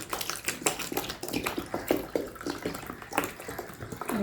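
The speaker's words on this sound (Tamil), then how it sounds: "அரை லிட்டர் தண்ணி காஸ்டிக் சோடா ஊற்றிருக்கிறேன்" Water pours and splashes steadily into a container of caustic soda at close range, with uneven gurgling bursts and no voices.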